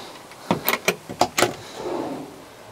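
An accessory drawer in a Westfalia Columbus 600 D camper van is handled up close, with a quick series of clicks, latch knocks and rattles followed by a soft sliding rumble as it opens.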